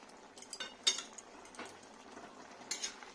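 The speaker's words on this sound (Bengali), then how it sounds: "এবার কন্টিনিউ নাড়াচাড়া করতে হবে" Spoon stirring a gourd and poppy seed curry with dried red chillies in a pan, quiet scraping and scattered metallic clinks at irregular intervals, close and faint, no talking.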